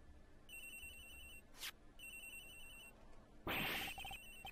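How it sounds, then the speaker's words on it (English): A phone rings in the Ace Attorney Investigations video game, with repeated electronic ringtone bursts in a steady pattern, a short whoosh between them and a louder sound effect near the end, over a soft background hum. "Agent Hicks' phone! It's ringing from somewhere, sir!"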